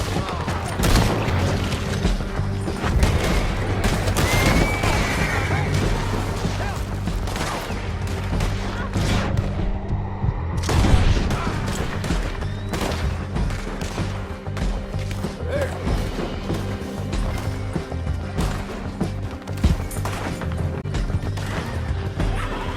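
A Red Dead Redemption 2 shootout rattles with repeated gunshots, near and far, in uneven bursts, with horses whinnying and shouted voices mixed through the steady chaos.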